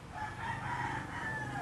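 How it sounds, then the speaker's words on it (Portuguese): A rooster crows in a drawn-out call somewhere near a street, fairly faint and distant amid steady background noise, with no one speaking. "O galo de vez em quando canta aqui"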